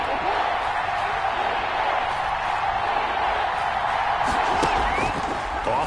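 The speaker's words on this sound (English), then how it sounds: "The crowd getting into it as we come up on a big third down" A video game football crowd roars steadily in a large stadium ahead of a big third down, a dense continuous wall of cheering with a few sharper whoops and claps rising near the end, no voices standing out.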